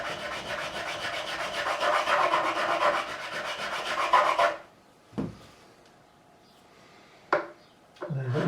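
A hand file rasps across the frets of a Harley Benton 35 Plus guitar in quick, rhythmic back-and-forth strokes. The strokes stop abruptly, and a few faint knocks and handling sounds follow in the quiet.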